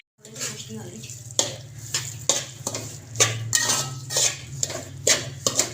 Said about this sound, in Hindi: अब यहाँ पे हमने डाल देना है घी।